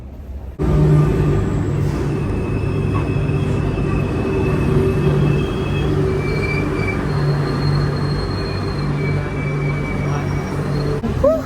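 A crowded Paris commuter train heads to Versailles, with a loud, steady rumble of the carriage, metallic wheel squeals and a faint hum running throughout.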